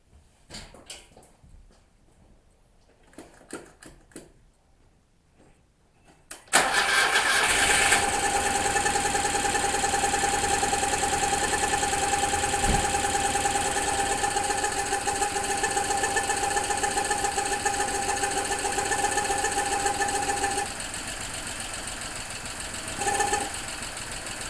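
A Subaru Justy engine cranking, catching and settling into a loud, steady idle close by, its even buzzing drone holding for the rest of the clip and easing slightly lower near the end.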